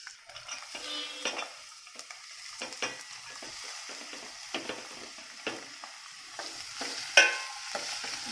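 Chopped onions frying in oil with cumin in a pan, a soft, close sizzle broken by repeated spatula stirs and scrapes, with one sharper metallic clink near the end.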